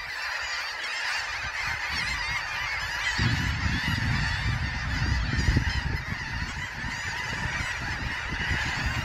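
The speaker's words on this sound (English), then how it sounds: "These are all red knots, a lot of them." A large flock of red knot shorebirds feeding on horseshoe crab eggs calls in a dense, continuous chatter, with steady wind or surf rumble underneath.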